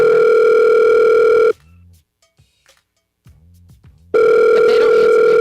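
A telephone call tone plays a steady loud beep, breaks into a quiet gap with faint handling clicks and brief low sounds, then the steady tone resumes.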